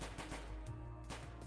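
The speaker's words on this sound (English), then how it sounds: "Most likely gunshots." Distant gunfire from a city street in VA-11 Hall-A, heard after nearby cars exploded: a few dull, muffled bursts set under a steady low rumble, faint and far off.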